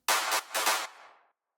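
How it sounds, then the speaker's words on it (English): Two sharp, reverberant hand-clap accents from an electronic track, with a slight Haas stereo effect, hit in quick succession, each trailing off into a short airy tail, with no other sounds. "we have some kind of claps going on as accents"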